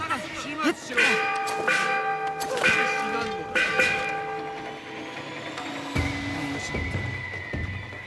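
Temple bells chiming in the Assassin's Creed Shadows video game, several ringing strikes with long sustained overtones, over game ambience and a low rumbling hit near the end.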